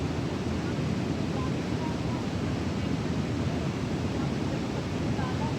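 A waterfall pours beneath a bridge on a nature walk near Vancouver, producing a steady, dense roar of rushing water that holds an even level throughout with no pauses.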